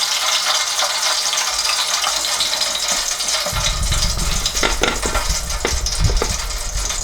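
Fried pork lumpia spring rolls drain after deep frying, giving a steady bright sizzle that deepens into a bubbling, gushing hiss about halfway through, with loud oil crackle and no talking.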